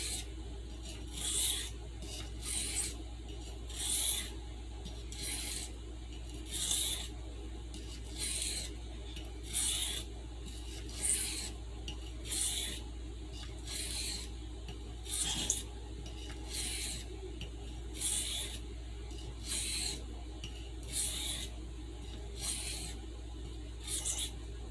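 A Stockman sheepsfoot knife blade drawn across a sharpening stone in a steady rhythm of about two dozen evenly spaced rasping strokes, close and quiet, over a low hum.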